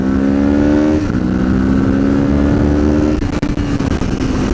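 A Kawasaki Z650 motorcycle engine revs loudly and close, pitch climbing toward about 6,000 RPM as it accelerates, then shifting and pulling again.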